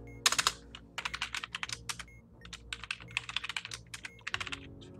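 Rapid clicking of computer keyboard keys as numbers are typed into a calculator, bursts of close, crisp keystrokes in uneven rhythm with brief pauses between runs.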